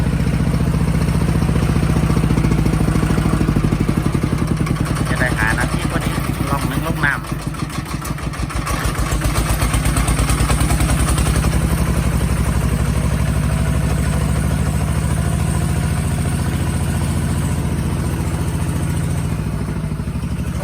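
A farm tractor used for ploughing in Nakhon Sawan, Thailand, runs continuously with a steady, rumbling, clattering engine drone, loud and close throughout, while people talk over it.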